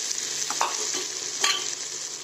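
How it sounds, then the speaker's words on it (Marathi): Potatoes frying in a pan for a fasting-day dish, a steady close sizzle with a few scraping spoon stirs breaking through. "आता हे काही बटाटे टाकले."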